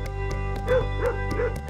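Dogs bark in a clothing ad campaign where dogs stand in for fashion models, giving three short yipping barks evenly spaced over a steady low humming music bed.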